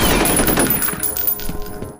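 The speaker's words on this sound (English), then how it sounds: "that was him shooting through the wall" Rapid automatic gunfire rattles through a wall in the shooter game F.E.A.R., a loud burst of sharp, close shots that tails off toward the end.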